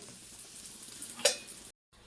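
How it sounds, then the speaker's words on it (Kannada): Mustard seeds crackle faintly in oil with asafoetida, tempering for a hotel-style lentil sambar, a soft continuous sizzle with one sharp clink of a spoon, then a brief silence. "ಒಗ್ಗರಣೆಗೆ ಸಾಸಿವೆ ಹಾಕಿದ್ದೀನಿ"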